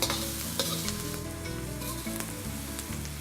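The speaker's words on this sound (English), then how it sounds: "Stir that through just to soften the onion, not to brown it." Red onion, red peppers and garlic frying in oil in a pan for paella, stirred through: a steady, dense sizzle with occasional scraping and stirring noises, close and continuous, with no voices.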